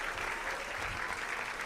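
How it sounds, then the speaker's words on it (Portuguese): A church congregation applauds God in a steady, dense wash of clapping that holds at an even level throughout, with no gaps. "Pode aplaudir a Deus?"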